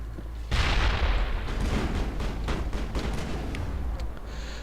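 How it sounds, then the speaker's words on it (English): A grenade explosion in Mass Effect, a sudden loud boom followed by a dense, rumbling roar of debris and gunfire that slowly tapers off. "Grenade."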